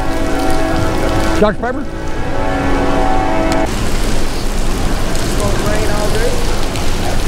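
Heavy rain hisses and patters steadily on a nearby surface while people talk over it.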